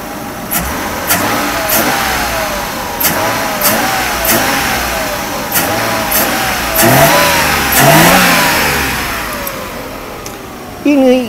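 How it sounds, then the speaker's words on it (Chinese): A rebuilt M104 inline-six in a Mercedes-Benz R129 300SL revved repeatedly from idle, each blip rising and falling in a series of sharp throttle bursts. The engine is close and loud, with a voice talking now and then. "大哥试着来加油"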